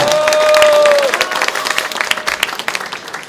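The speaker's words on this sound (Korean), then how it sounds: "더 크게 한번 박수 칠까요?" An audience at a political talk concert in Gwangju claps loudly after a brief tone, with the dense applause then thinning into scattered separate claps and light crowd murmur.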